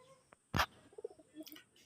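Large red-eyed pigeons give a few soft, low coos in quick succession, faint and close, after a sharp thump of movement, with brief chirpy sounds at the end.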